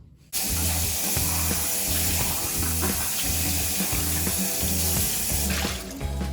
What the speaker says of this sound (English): You can even use tap water, honestly.